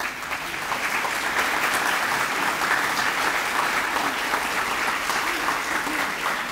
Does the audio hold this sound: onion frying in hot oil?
no